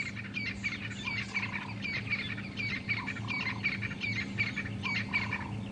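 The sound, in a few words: crested francolins calling in the dawn chorus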